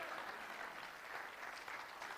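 A church congregation claps during a sermon, a brief, faint, steady burst of applause from a crowd with no speech.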